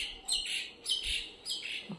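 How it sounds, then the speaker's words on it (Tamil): Birds chirping in the morning near a curry leaf tree, bright repeated tweets and calls in three quick bursts, close and clear over a quiet background. "இந்த பறவைகளோட சவுண்டெல்லாம் பார்த்திங்கன்னா நம்மளுக்கு காதுக்கு இனிமையாக இருக்குல்ல"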